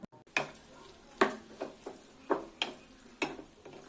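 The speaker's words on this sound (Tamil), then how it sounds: "மசாலாவும் மட்டனும் நல்லா ஒன்று சேர்ற அளவு நல்லா கிளறி விடுங்க" Mutton being stirred into masala in a pan: a quiet background broken by roughly seven separate scraping knocks of a spoon against the pan, spaced unevenly, close by with no talk.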